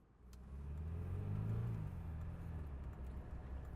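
A 1992 Mercedes-Benz 190 E 2.5 engine runs with a steady low rumble that swells briefly as if revving, then settles into a continuous idle-like drone, close and alone without talk.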